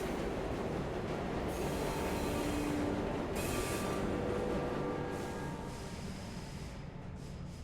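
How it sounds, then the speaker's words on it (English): A train in a video game rolling into its terminal stop: a steady, dense rumble of wheels and carriage noise with faint squeals, easing off slightly toward the end. "We have reached the end of the line where this train will terminate."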